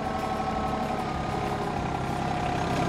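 A tractor engine idles steadily with a low, even diesel chug as it backs up slowly, close by and alone with no talking.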